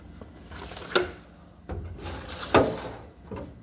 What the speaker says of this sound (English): Here's a little small drawer of